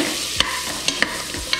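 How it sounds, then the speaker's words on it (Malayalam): Grated carrot and beetroot fry in melted butter while a spatula stirs them, making a soft continuous hiss broken by a few sharp scraping taps close by. "ഇത് രണ്ടും ചേർത്ത് ഇതിനെ നന്നായിട്ടൊന്ന് മിക്സ് ചെയ്യാം"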